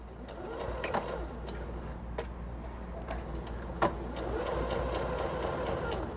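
A sewing machine runs steadily at moderate speed, stitching a zipper tape right beside the teeth, its needle ticking in a quick even rhythm with a few brief pauses and clicks along the way.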